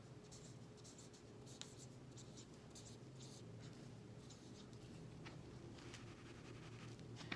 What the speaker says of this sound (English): I'm going to write that down.